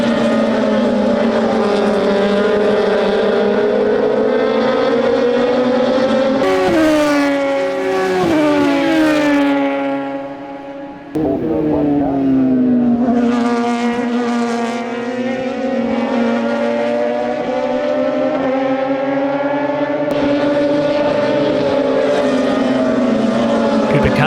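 FSR race cars pass at CARCO.com.au Raceway, loud engine notes rising and falling as cars sweep by, with gear changes and a second wave of engines building up after a brief dip.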